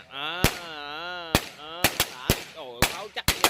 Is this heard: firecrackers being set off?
yes